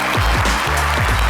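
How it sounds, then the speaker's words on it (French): A TV studio audience applauds loudly in a continuous wash of clapping over a thumping low beat that repeats under it. "avec les applaudissements du meilleur public de la télévision ivoirienne"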